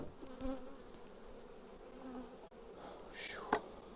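Agitated honey bees buzzing around a hive heavy with honey: a quiet, continuous drone with a few individual bees zipping close past, one sharp nearby whine near the end.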